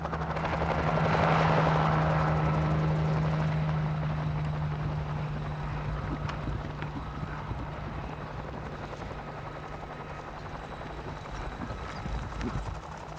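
A helicopter herding wild horses in North America drones steadily overhead with a low rotor hum, loudest early on and gradually fading as it moves away; no one speaks.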